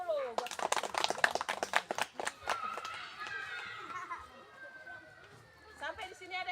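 Children in a school physical education lesson clap their hands together in a burst of quick, loud claps for a few seconds, then the sound fades into general classroom chatter and noise.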